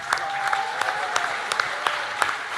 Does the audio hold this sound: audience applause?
yes